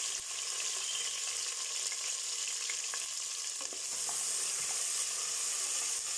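Onions and curry leaves sauté in hot oil for sambar, a loud, even frying hiss that carries through the whole stretch, broken by a few faint stirring clicks, up close with no voices.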